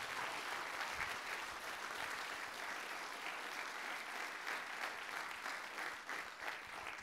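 Sustained applause from an audience at a workshop results presentation, a steady dense wash of clapping hands lasting throughout, moderately distant and alone without talk.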